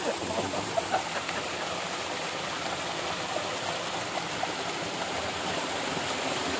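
Water gushing from a tubewell bore in a date-palm orchard near Madina where people bathe, a steady loud rushing flow close by, continuous broadband roar with occasional faint splashes.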